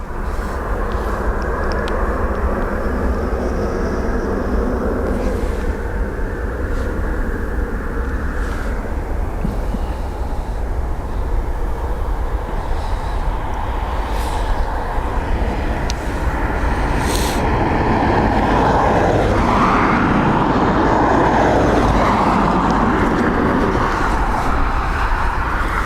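An airliner at Dublin Airport lining up on the runway, a steady distant jet engine roar that swells louder toward the end, with light wind and outdoor background noise.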